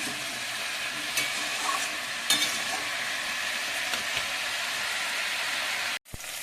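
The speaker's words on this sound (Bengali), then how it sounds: "জন্য একটু পেঁয়াজ, রসুন, আদা, কাঁচা লঙ্কা কড়াইতে দিয়ে দিয়েছি" Onion, garlic, ginger and green chilli fry in oil in a wok, giving a continuous close sizzle with a few faint stirring ticks and a brief break near the end, no talking.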